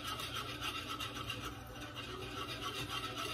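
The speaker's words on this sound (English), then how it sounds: "So you keep whisking it slowly, otherwise it's gonna lump up," A whisk scrapes steadily and softly through a cooking breakfast mixture in a pan, a continuous gentle rasping with no pauses.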